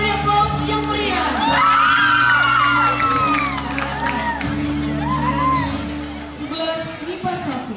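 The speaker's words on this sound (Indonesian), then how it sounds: "Kita beri aplaus yang meriah." A school audience at a high school performance event bursts into cheering and whoops, excited young voices rising loudly over a steady background for several seconds before gradually settling.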